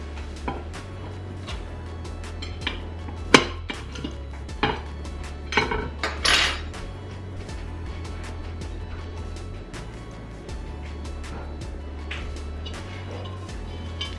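An applesauce cake is worked free of a metal bundt pan fresh from the oven, with scattered light clanks, taps and clatters of the pan over a low steady hum, a few sharper knocks standing out.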